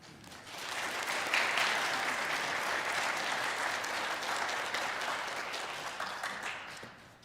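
Warm applause from an audience at a worship service as a speaker is welcomed, a steady wash of clapping that swells quickly and tapers off near the end.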